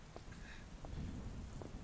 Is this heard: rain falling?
yes